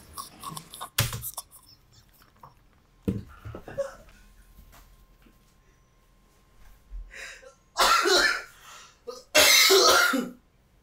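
Harsh coughs and throat clearing come in several separate bursts with quiet gaps between them, the loudest and longest fits near the end.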